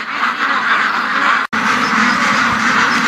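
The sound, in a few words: ducks quacking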